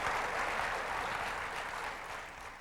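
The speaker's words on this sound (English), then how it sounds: "I know some of the people clapping are our shareholders in the audience" An audience applauds through a Steve Jobs keynote at OpenStep Day during Object World 95. The clapping is a steady, fairly faint wash that continues for the whole stretch and eases slightly near the end, with no voices.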